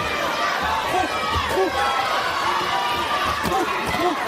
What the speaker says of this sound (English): Here the crowd trying to rally their fighter, Villa.